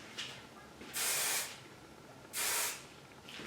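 Two bursts of Freeze It hairspray hit styled competition hair, each a loud aerosol hiss lasting about half a second, heard close with a quieter pause between them.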